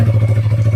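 A stock-exhaust Yamaha R3 V2 motorcycle idles steadily up close, its low engine note pulsing in an even, rapid rhythm with no one speaking.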